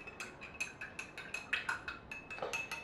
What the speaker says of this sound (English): Then you stir it.